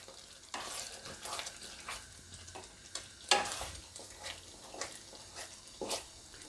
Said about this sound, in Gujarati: ગ્રેવીને આપણે ઉકળવા દે હું, વચ્ચે વચ્ચે હલાવતા રહે હું